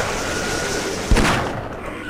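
A single sharp gunshot from the video game Half-Life cracks out once midway through, a brief loud burst over steady game ambience.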